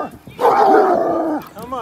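Excited dogs out on a walk make a burst of yipping, whining barks at another dog, close by, with a person talking around them.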